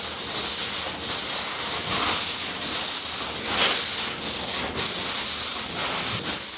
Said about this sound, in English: Lightly sand, especially on these hoods, because they got supports in here.